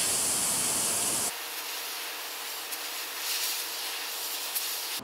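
An airbrush sprays Createx Wicked Crimson red paint onto a fishing bait with a bright, loud hiss for a second, then settles into a softer, steady airy spray with small sputters.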